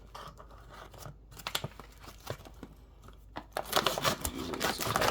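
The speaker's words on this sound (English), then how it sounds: "Might as well just use my scissors" Scissors snip and cut through a plastic bag close up, crisp irregular clicks and crinkling that grow into a denser, louder stretch of cutting and rustling toward the end.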